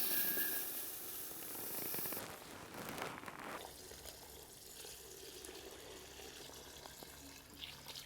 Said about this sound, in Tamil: இந்த பாஸ்மதி அரிசி வந்து அரை மணி நேரம் ஊற வைக்கணும். அதனால் நம்ம சாப்பாடு தாளிக்கிறதுக்கு முன்னாடியே வந்துட்டு தண்ணியில் போட்டு 2 முறை கழுவிட்டு ஊற வச்சுக்கலாம்.